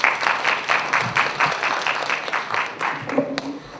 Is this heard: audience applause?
yes